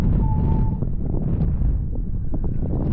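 Wind buffets the microphone out on the sea during a spring kayak fishing trip for cuttlefish, a loud continuous rumbling gust with a faint brief tone near the start and no talking.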